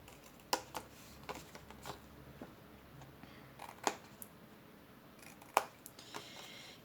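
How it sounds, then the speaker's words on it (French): Scissors snip the corners of a Stampin' Up! paper tissue box: a handful of sharp, quiet cuts spaced a second or more apart in a hushed room, with no voices. "Donc, ici, je coupe les coins."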